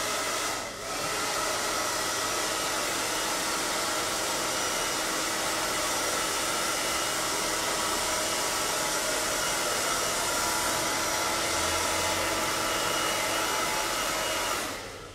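A hair dryer blows steadily and loudly on hair in a salon during a short layered haircut, one continuous whoosh for nearly the whole stretch with no talking.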